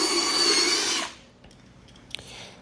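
A drill brush spins against carpet for about a second, giving a loud whirring scrub that cuts off abruptly, followed by quiet room tone and a faint click.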